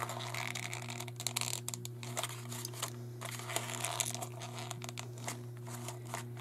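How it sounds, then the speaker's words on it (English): Wet coffee-dyed paper is gently pulled apart and torn, giving soft crackling and crinkling over a constant low electrical hum, with a few sharper rips scattered throughout. "now when you do it this way, the paper gets a lot more wet. So you want to be gentler with it when you pull it apart. It's going to rip"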